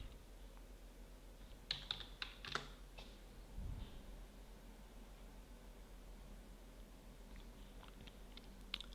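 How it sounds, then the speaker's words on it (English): Password being typed on a computer keyboard, heard as a short burst of faint, quick key clicks near the start over a steady low hum, then mostly quiet room noise with a few scattered taps. "type in the password that we specified a moment ago"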